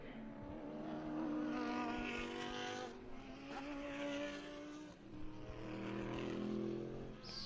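Race cars thunder across the line during a three-hour endurance race in the South Island Endurance Series, engines roaring loud and close in overlapping waves as several cars pass, with tires squealing.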